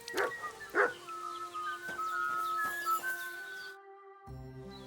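A dog in Kingdom Come: Deliverance II gives two sharp barks close by, followed by quieter chirping birdsong and a faint tonal hum before a brief cutoff.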